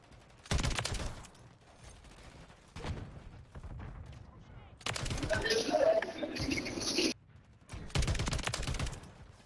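Video game weapon fire crackles in several short bursts, loudest in a dense middle stretch, alternating with gaps, with no voices heard.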